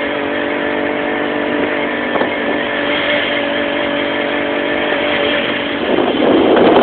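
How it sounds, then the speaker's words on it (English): Road traffic streams past along a Denver trail, a steady engine and tire wash with cars passing close by, swelling louder near the end, with no talking. "this is where I get a lot of traffic"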